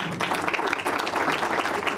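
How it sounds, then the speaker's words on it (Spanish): An audience applauds during a live music broadcast, a dense, continuous patter of many hands, steady and fairly loud throughout. "Fuerte el aplauso directo de Iquique"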